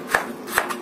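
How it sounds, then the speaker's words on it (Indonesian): A knife slices through garlic cloves on a cutting board, giving two or three crisp, close cuts in quick succession. "Kemudian aku juga pakai 3 siung bawang putih. Ini juga kita iris aja, nggak perlu dicincang."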